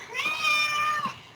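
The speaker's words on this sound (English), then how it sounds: "That is one noisy kitty cat" A cat meows loudly in one long, drawn-out wail with a rising and falling pitch, close to the microphone and heard alone, with no talk over it.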